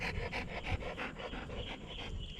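A big dog pants steadily at close range, quick rhythmic breaths repeating for a couple of seconds with no talking over them.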